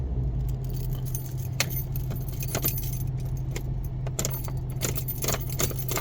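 Car keys jangling in a 2018 Jeep Cherokee, repeated close metallic jingles and clinks over a steady low hum of the running engine, with no voices.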